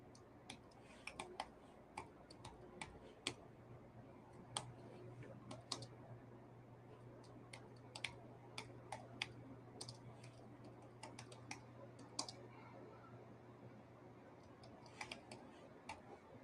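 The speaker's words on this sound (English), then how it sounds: "While I type this up." Typing on a computer keyboard: scattered bursts of quick clicks, some faint and some sharper, sit over a steady low hum and room noise, with no talking.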